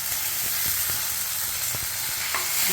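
Onions with curry leaves sautéing in a pan for a brinjal mutton gravy, a steady close sizzle with a few soft stirring scrapes, no talking.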